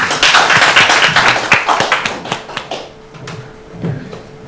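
Audience clapping after a lecture at a Korean humanities and arts concert event, a dense burst of applause that thins into scattered, slowing claps and fades out within a few seconds.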